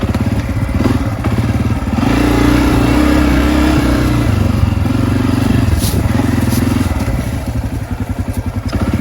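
A Honda CRF250F dirt bike rides a frozen, rutted trail, its engine loud and close with a steady chugging thump that rises briefly in a rev, with no talking.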